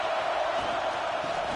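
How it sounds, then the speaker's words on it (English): The home crowd roars steadily in a college football video game, a broad and even wall of cheering that holds at the same level throughout. "this home crowd is fired up and ready to make a difference"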